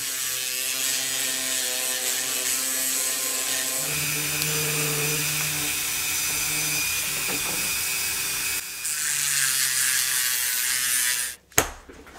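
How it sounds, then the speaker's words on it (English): An old Dremel rotary tool fitted with a speed chuck runs continuously at a steady high-pitched whine, close and alone, then abruptly cuts off near the end with a clunk. "Trying out one of these speed chucks on the old Dremel here."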